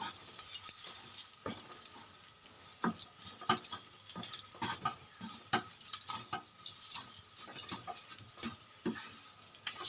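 Mashed taro with shrimp, chilli and chopped coriander being stirred in a pan, with irregular soft scrapes and spoon taps over a faint low sizzle throughout.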